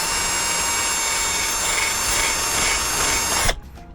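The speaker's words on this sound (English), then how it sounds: "So I grabbed a 7/32 drill bit, and that should just give us the clearance we need here." A power drill with a 7/32 bit bores through plastic hardware during a rear chase and fog light install on a 2nd-gen Toyota Sequoia, running loud and steady up close for about three seconds before cutting off.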